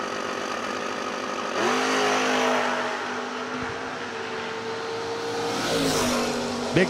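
Drag racing cars, a Chevrolet Monza and an Oldsmobile Starfire, launching off the starting line: engines idle, then surge into loud rising revs with pitch sweeps, a second burst of acceleration following near the end.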